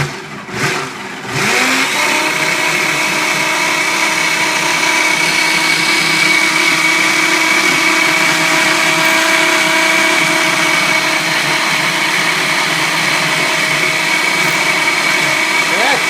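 A Ninja Mega Kitchen System 1500 blender roars at high speed, chopping through a packed load of apples, loud and continuous after a brief start-up, with a voice talking over it.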